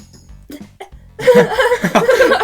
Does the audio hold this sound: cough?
yes